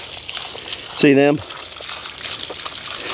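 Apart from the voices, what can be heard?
water running into a water trough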